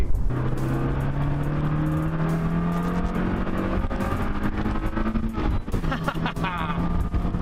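A 2001 Mazda MX-5 NB with a 1.6 double overhead cam engine revs hard from inside the car, its pitch climbing steadily through the gears with short dips at each shift, loud and continuous.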